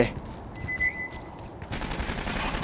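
Gunfire in the video game Aliens Colonial Marines during a fight near an armored vehicle, a rapid, steady stream of shots that grows denser and louder in the last second, with no talking.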